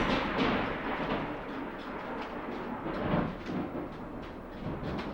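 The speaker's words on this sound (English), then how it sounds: "We have a serious storm just started here." Storm thunder rumbles steadily through the clip, a dense low roar with a few louder swells, heard alone and fairly close, following an afternoon of hail.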